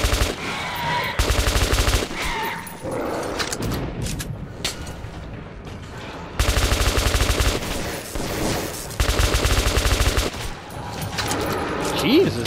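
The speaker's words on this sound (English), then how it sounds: "Jesus, that's an effective weapon! Ow! What is that, a P90?" Bursts of rapid automatic P90 gunfire in the video game Metro 2033 Redux, long loud fusillades alternating with shorter volleys and brief pauses, with a voice calling out between them.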